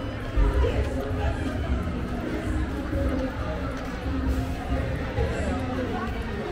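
Steady crowd babble fills a busy city street in Recife, Brazil, a continuous murmur of many voices close around with passing movement, no single voice standing out.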